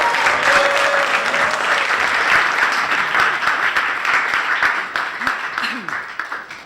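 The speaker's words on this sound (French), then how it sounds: "Je crois qu'on peut l'applaudir." Sustained applause from an audience, steady and full for the whole stretch, with dense overlapping claps at an even volume that thins slightly near the end.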